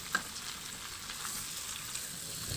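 Pork pata sizzles steadily in a pan with soy sauce as it is stirred, a continuous close frying hiss with faint scraping, no voices.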